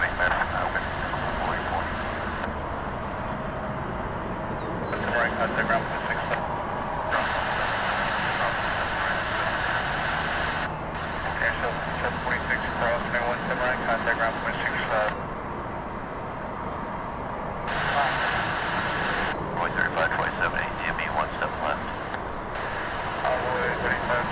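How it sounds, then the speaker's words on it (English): A loud jet engine roar swells and holds as an American Eagle airplane takes off at DFW airport, rumbling continuously with intermittent bursts of louder whine. "There's the plane taking off."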